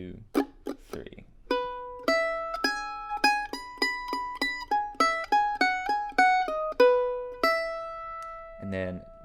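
A mandolin picks the opening phrase of the bluegrass tune "Tobacco Patch", a quick run of bright single notes and a held final note, played alone and close after a few soft count-in taps.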